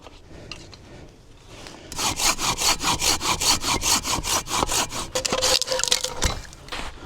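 A hand saw cuts through a wooden beam at a hideout in the woods. About twenty fast, steady back-and-forth strokes rasp loudly and close by, after quieter rustling at the start.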